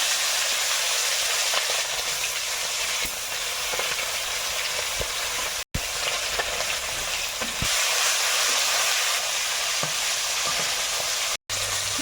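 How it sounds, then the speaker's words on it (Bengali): Steady loud sizzling of katla fish pieces frying one by one in hot oil in a wok, a continuous crackling hiss with brief pops, cut by two short dropouts. "মাছগুলো এক এক করে ভেজে নিই"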